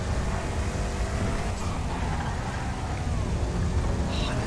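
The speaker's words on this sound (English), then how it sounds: "This car sounds great as well." A Buffalo Hellhound car in a GTA FiveM street race roars at a steady, loud engine drone, blended with heavy rain and thunder-like rumble throughout.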